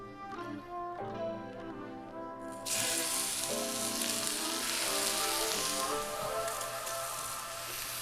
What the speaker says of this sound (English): We're gonna add a little bit of vegetable oil to heat up in the pan.